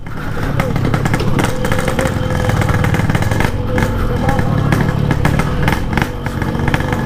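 A Yamaha RX King motorcycle engine pushes a broken-down Vespa along a steep, rough track, droning loud and close with constant two-stroke revving and clatter, while someone talks over it.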